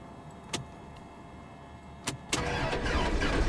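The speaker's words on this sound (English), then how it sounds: "to start the engines, you turn the key" A Cessna 172 engine starter in X-Plane 12 cranks after a couple of sharp clicks from the key, settling into a loud continuous grinding roar that carries to the end, with no talking.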